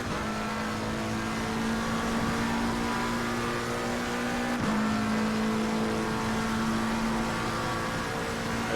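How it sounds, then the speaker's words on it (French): Race car engine accelerating, a loud sustained drone with a steady tone that holds throughout and shifts briefly midway, heard close and alone. "Et on accélère le plus tôt possible maintenant."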